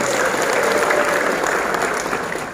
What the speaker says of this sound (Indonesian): Tepuk tangan buat petani milenial.